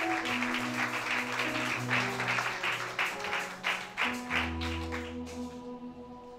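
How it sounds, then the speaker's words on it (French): A church congregation applauding and cheering for Jesus, with sustained clapping over music and rhythmic claps fading toward the end. "Acclamez pour le roi des rois"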